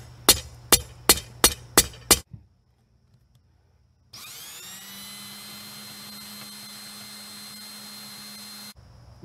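A power drill bores a hole in metal while chain mail tools are being made, after half a dozen quick, sharp hammer taps to flatten the spot. The drill runs as a steady, loud whine for several seconds, then stops.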